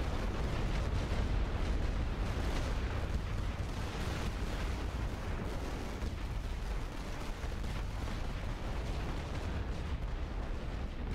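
Mortar fire in the WWI strategy game The Great War: Western Front, heard as a dense, continuous roar of booming blasts and rumbling bursts that fills the whole stretch without a break.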